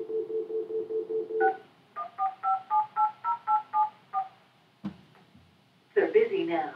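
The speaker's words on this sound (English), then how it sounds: "let's make a phone call." Touch-tone keypad beeps from a Grandstream GXV phone: a run of short, evenly spaced DTMF tones, then a second quick series, followed by a brief click and the start of another sound, heard close and clear.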